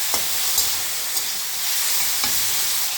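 Water is added to spice masala frying in a pan for a singhi fish curry with green banana, giving a loud, continuous hissing sizzle with a few brief crackling pops.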